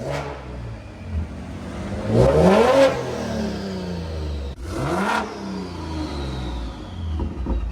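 A modified 1000hp BMW G80 M3 engine revs in two sharp rising sweeps with a whistling turbo note and no pops, loud and close over a steady idle, with no talking.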